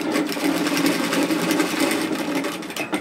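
Sewing machine stitching a strap for a mini Boston bag, a steady rapid mechanical whir with even stitching pulses, close and continuous before slowing slightly at the end.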